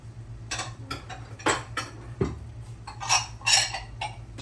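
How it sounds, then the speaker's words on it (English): Grease being drained from a big pan of cooked meat, about ten pounds, with metal pan and utensil clinks and scraping at close range, in irregular bursts over a low steady hum. "I'm going to drain grease off first."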